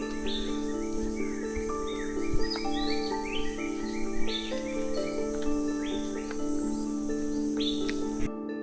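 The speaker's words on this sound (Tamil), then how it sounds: "வெறும் அந்த பீஸ்ஃபுல்லான ஒரு குருவி சவுண்டு அந்த மாதிரி தான் கேட்குது" Birds chirp and call repeatedly over a steady insect drone near Sathodi Waterfalls in Karnataka, a continuous peaceful outdoor backdrop with no talking.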